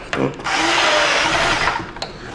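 A low-power drill drives screws into wood while a workbench is being assembled, giving a brief close whirring buzz of about a second and a half between light knocks and handling clatter.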